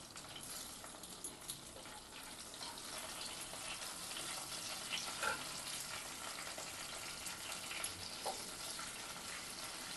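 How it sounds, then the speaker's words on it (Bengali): One whole dried red chili, two bay leaves and white cumin seeds fry in oil, a faint, steady low sizzle with occasional soft pops and clinks, quiet throughout and without talk. "তেলের মধ্যে দিয়ে দিচ্ছি একটা গোটা শুকনো লঙ্কা, 2টো তেজপাতা"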